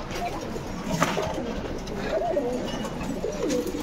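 Pigeons of an old Bangalore line breed cooing in a loft, soft low repeated coos layered over a steady background murmur.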